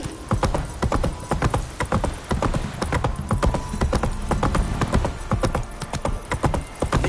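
Hooves of Roach, Geralt's horse in The Witcher 3: Blood and Wine, clip-clop in a steady, brisk rhythm throughout, loud and close, with a brief whinny possible among the footfalls.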